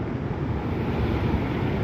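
Ocean waves wash against the shore where people gather shellfish and crabs, a steady broadband rush with wind buffeting the microphone and no voices.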